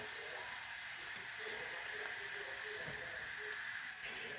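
Chopped onion searing in a pan for a risotto with Morteau sausage, giving a steady, even sizzle and hiss throughout with a few faint clicks, close by and without talk.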